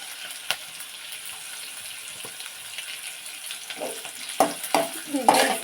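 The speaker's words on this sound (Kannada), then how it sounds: "ಸ್ವಲ್ಪ ಎಣ್ಣೆಯಲ್ಲಿ ಕರಿತಾ ಇದ್ದೀನಿ" Onion frying in a little oil for village-style brinjal curry, a soft steady sizzle with scattered stirring scrapes and clinks growing busier toward the end.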